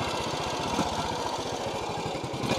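A Honda motorcycle engine runs steadily nearby, giving a continuous rough throb with a fast, even pulsing beat and no speech.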